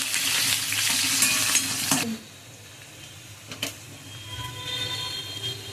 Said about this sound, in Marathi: लसूण जो होता आपण ठेचून घेतलेला तो यामध्ये घालणार आहोत आणि याला आपण चांगलं असं फ्राय करून घेऊया